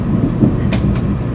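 A JR West Hakata-Minami Line shinkansen slows as it runs down a viaduct, its steady low rumble continuous and fairly loud, with two brief hissing bursts near the end.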